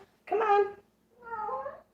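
A cat meows twice in quick succession, close and fairly clear, each call drawn out with a tonal, wavering pitch and a short quiet gap between them.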